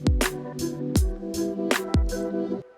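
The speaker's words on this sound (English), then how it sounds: "So I want to pitch down my main melody by an octave." An OP-Z synthesizer plays a melody pitched down an octave, with a steady beat of deep kick hits and bright percussive strikes under sustained low synth tones, all fairly quiet.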